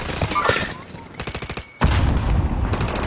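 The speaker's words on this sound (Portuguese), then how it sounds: "Tô me atirando no inimigo." Rapid bursts of video game gunfire fired at an enemy, a tight string of sharp shots between stretches of talk, with a voice speaking over the loud noisy game action.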